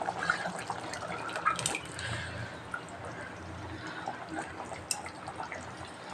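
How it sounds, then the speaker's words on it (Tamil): Tamarind water being poured into a simmering pot of vatha kuzhambu, a soft continuous liquid pour with light splashing and dripping, close and fairly quiet, with no talking. "இப்போ வந்து புளி சேர்த்திக்கலாம்"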